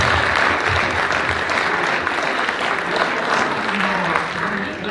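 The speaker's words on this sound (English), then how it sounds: "Can we get a round of applause for" An audience at a World Trade Center Kentucky event breaks into steady, dense applause that fills the room at full volume, with a few voices mixed into the clapping throughout.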